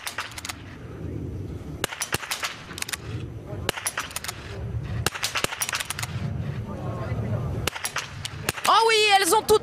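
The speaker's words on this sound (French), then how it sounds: "Il est là le dernier tir." Sharp biathlon rifle shots at the final standing shooting stage in Hochfilzen, five or so spaced cracks over a murmuring crowd and a commentator, ending in a swell of cheering.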